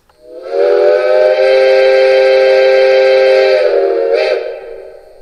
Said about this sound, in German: Der Langpfiff hängt wieder davon ab, wie lange ich auf die Taste drücke.